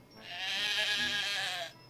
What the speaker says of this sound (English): And a sheep.